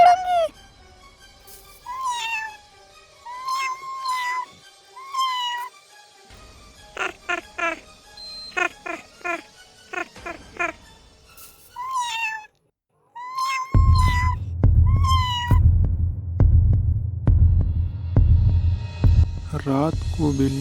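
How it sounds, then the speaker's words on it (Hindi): Several drawn-out cat meows, some rising and wavering, spaced apart; a low rumbling drone and throbbing background join in the second half. "रात को बिल्ली की आवाज़ सुनकर"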